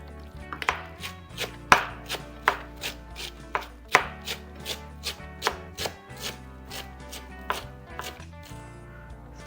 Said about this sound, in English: I'm going to chop the parsley here